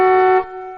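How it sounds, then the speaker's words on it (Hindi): A single loud car horn blast, steady and brassy, cutting off abruptly after a moment and leaving a faint fading tone. "तभी उसकी गाड़ी का हॉर्न बज उठा।"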